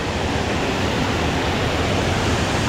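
A tall waterfall roars as a dense, steady wash of falling water, loud and close with no pauses.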